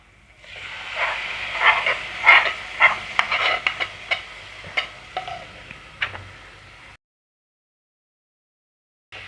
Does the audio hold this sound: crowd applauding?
no